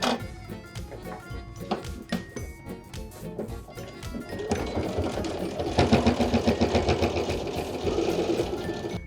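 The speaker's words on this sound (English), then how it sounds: "we'll take this to the machine and sew this edge right across the line that we just marked" A sewing machine stitches straight across a fabric bag edge, starting with brief stop-start needle clatter and settling into a steady, close, rapid mechanical hum.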